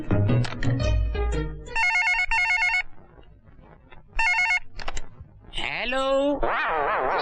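A telephone rings in repeated bursts of trilling bell tones, loud and close, between stretches of voices and background noise in a Gujarati film scene.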